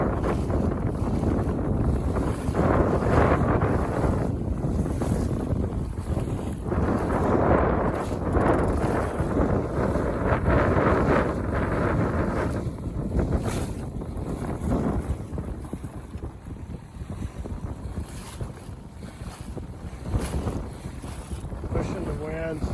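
A Buccaneer 18 sailboat slaps through choppy, confused waves, with gusty wind buffeting the microphone and water rushing and splashing against the hull in irregular bursts throughout.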